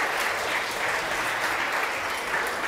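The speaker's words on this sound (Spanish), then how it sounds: "Un aplauso por Israel, que estuvo esta noche aquí con nosotros." Studio audience on a television show applauds for a guest, a thick, even wash of clapping held at constant loudness for the whole stretch, with no talking over it.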